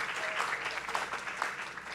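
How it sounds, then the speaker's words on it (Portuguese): Steady applause from an audience thanking supporters at a book fair, fairly faint and even in level, with a few sharper claps standing out from the wash. "palmas para todos os nossos apoiadores"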